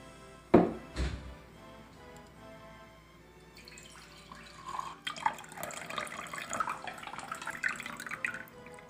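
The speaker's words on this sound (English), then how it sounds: "Slow trickle effect is best." Eggnog poured in a slow trickle into a glass, a soft liquid dribble after a couple of sharp knocks, faint and close with no talk.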